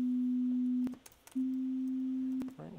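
Steady synthesized sine tone from SuperCollider at reduced amplitude and lowered pitch, sounding in two sustained stretches separated by a short gap with faint clicks, then a brief burst of other sound at the end.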